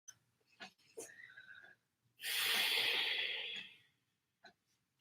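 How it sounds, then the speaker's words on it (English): A single deep, forceful breath during a pranayama breathing exercise in a yoga studio: a loud, sustained airy rush lasting about a second and a half, with softer breaths and small sounds before and after. "we're just gonna start with our breathing exercise, pranayama, deep breathing exercise"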